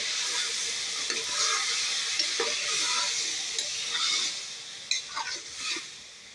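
Chicken pieces sizzle in a pan of kurma, a continuous soft hiss broken by scraping stirs and small clinks of the spoon against the pan.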